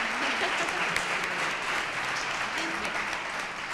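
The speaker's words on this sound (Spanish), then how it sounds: "Un aplauso a Josema" An audience applauds at a book presentation in Nerva: dense, steady clapping from a crowd that holds at an even level for the whole stretch, with no clear voice above it.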